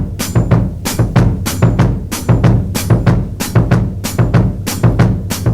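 Drum kit playing a samba groove, right hand on the ride cymbal, left hand on the snare and a samba rhythm in the feet, with steady, busy strokes and regularly accented low hits repeating in a tight loop, close and loud.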